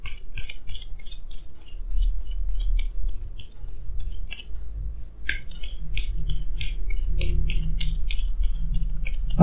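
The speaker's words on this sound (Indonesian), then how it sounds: "Jadi sini saya akan tarik lagi 2 kartu tambahan," Tarot cards are shuffled and drawn by hand in a rapid run of crisp, close papery flicks and snaps, briefly pausing midway before the quick riffling picks up again.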